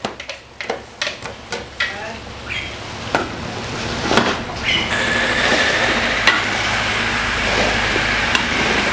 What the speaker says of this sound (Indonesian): ini bombay dengan bawang putih lagi kita tumis ya, kita biarkan dia matang dan wangi